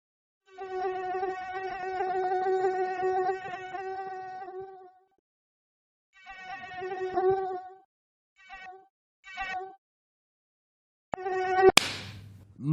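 Mosquito buzzing on a hot summer night: a thin, nasal whine that comes and goes in several bursts of differing length, ending with a sharp slap.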